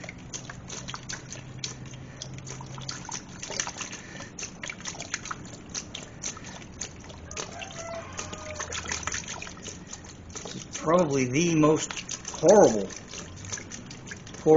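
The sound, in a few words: pouring coolant from a jug into a BMW Z3 engine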